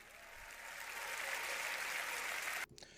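Audience applause swells into a dense, steady wash of clapping, holding loud for about two and a half seconds before cutting off abruptly.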